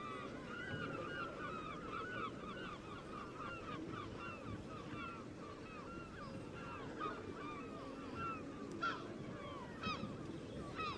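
Seagulls call repeatedly at an outdoor rugby match, a dense chorus of squawks layered over steady crowd and wind noise.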